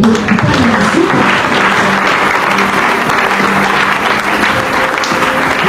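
A church congregation at a worship service applauds and cheers, steady loud clapping from a large group that carries on unbroken, with voices mixed into the crowd.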